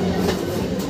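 A Sealdah–Baruipur suburban local train pulls out of platform 2 at Sonarpur station, its loud, close rumble and rolling rail noise filling the short stretch as it gets under way.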